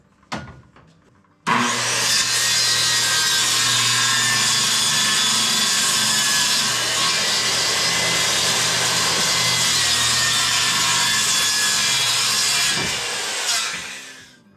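A power saw cuts through a wood sheathing panel in one long, loud continuous pass, starting abruptly and stopping near the end, inside a workshop being finished with sheathing.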